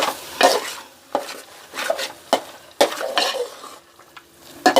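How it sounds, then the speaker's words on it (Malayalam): A spoon stirs carrot halwa in a pan with cardamom added, giving repeated scraping and clattering strokes in a steady rhythm. The sound is close and fairly loud, with a faint sizzle underneath. "ഇത് നല്ലതായിട്ട് ഇളക്കി യോജിപ്പിക്കാം."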